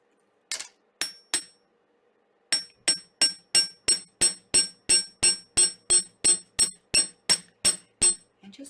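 Pendant wire is struck with a hammer on a metal bench block, starting with a few separate blows, then a brief pause and a fast, even run of sharp, ringing metallic taps, close and alone.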